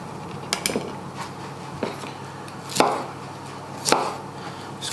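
Cauliflower florets pulled apart by hand for roasting: a few sharp snapping cracks spaced a second or so apart, close by over a quiet background.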